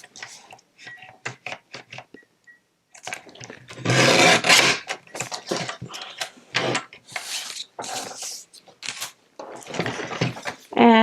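Paper card being trimmed with a paper cutter for a recycled Christmas card, heard as a series of short, close scraping and clicking strokes, with a louder burst of rasping partway through and quiet gaps between.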